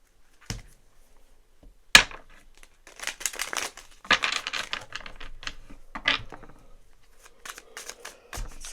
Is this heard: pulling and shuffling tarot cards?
yes